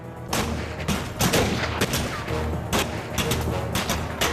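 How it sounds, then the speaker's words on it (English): A gunfight sound effect: a rapid barrage of overlapping shotgun and pistol shots, loud and close, cracking in irregular clusters with no pause over a rumbling background. "Then the shooting started."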